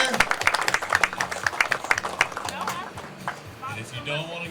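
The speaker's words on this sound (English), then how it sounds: "Round of applause for Tim Hurst and Mark McCaig taking the victory and the lion's share." Crowd applause for the winners of an Alabama Bass Trail fishing tournament weigh-in at Lewis Smith Lake: a burst of rapid, crisp clapping that fades after a few seconds, leaving a quieter background.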